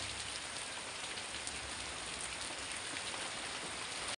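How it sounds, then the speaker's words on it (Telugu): Heavy rain pours down steadily, a dense, continuous hiss of drops drumming on surfaces with no pauses, loud and close. "చూడండి ఎలా పెద్ద వర్షం పడుతుందో, చాలా అంటే చాలా ఉరుకు పెద్ద వర్షం ఉంది."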